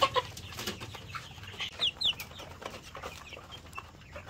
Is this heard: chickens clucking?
yes